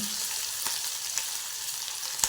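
Steady close sizzle of cumin, green chili and garlic sautéing in hot oil in a pan, with a few faint clicks of a spoon over the constant hiss; no talking.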